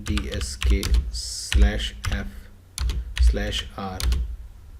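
Keys clatter on a computer keyboard as a chkdsk command goes into a Windows 10 command prompt, with bursts of quick taps under a talking voice.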